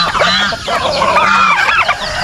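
Young turkey and chicken chicks cheep and cluck close by in a rural yard, a busy overlapping chorus of bright rising peeps and short clucks with no voices.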